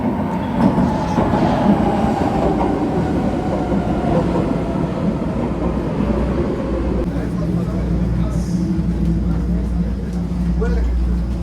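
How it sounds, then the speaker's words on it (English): A Vienna metro train rides between stops with a steady, loud rumble and wheel noise that fills the carriage continuously, with faint voices mixed into the din. "Alright, that was the metro I was on."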